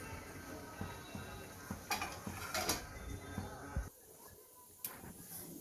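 A pot of potato curry with coriander gets its lid set on for steaming, giving a few metallic clanks and scrapes before a short quiet stretch and one final clink.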